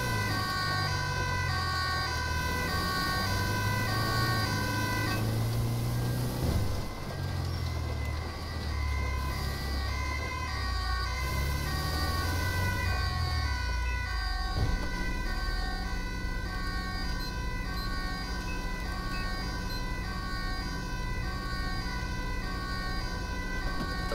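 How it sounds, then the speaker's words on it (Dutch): An ambulance siren in the video game GTA 5 wails continuously and loudly, the emergency vehicle's tone cycling steadily over a rumbling engine and road noise throughout. "Waar deze dus met spoed reed met die sirene voor."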